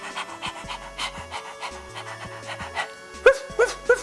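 A voice imitates a panting dog with quick, breathy huffs in a steady rhythm, close and loud, ending in a few sharper gasping bursts.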